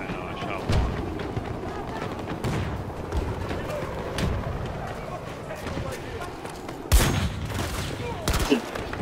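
Gunfire in the Battlefield 2042 shooter game: scattered sharp shots and bursts under steady combat noise, with voices talking over it.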